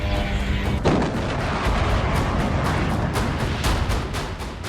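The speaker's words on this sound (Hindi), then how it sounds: "यूक्रेनी ड्रोन ने रूस के सारातोव की सबसे बड़ी इमारत को टारगेट कर दिया, जिसके बाद एक धमाका हुआ" A blast follows a Ukrainian drone strike on a large building in Saratov, Russia: a heavy boom erupts, then rumbling, crackling bursts and debris-like pops continue loud and dense.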